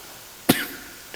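A single short cough from a person with a common cold breaks a quiet room tone, sharp at the onset and trailing off quickly.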